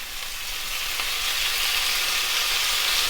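Light soy sauce poured into a hot pan of stir-fry vegetables, bringing a loud, steady sizzle that swells and holds, close up with no voices.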